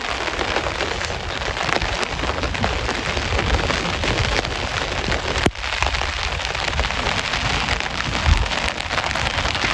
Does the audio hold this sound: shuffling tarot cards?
no